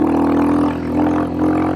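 A Royal Enfield Hunter 350 motorcycle, fitted with a light pipe exhaust, revs its engine in a steady, loud, close drone on loose ground, swelling briefly twice.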